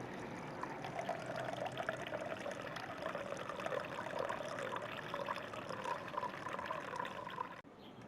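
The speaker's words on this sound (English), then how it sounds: "we're going to pour it off into a container to capture it. Very, very slowly so that the sediment remains in the bottle" Homemade redbud wine vinegar trickles slowly from a bottle into a container, a steady soft liquid stream with faint splashing running continuously, close and moderately quiet.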